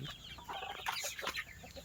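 A breeder rooster clucks and calls repeatedly at close range amid other fowl noise, the short calls coming in a busy, overlapping stream with no talk.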